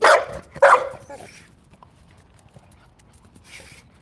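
Two loud dog barks close by in quick succession, then quieter shuffling and a faint bark-like sound near the end.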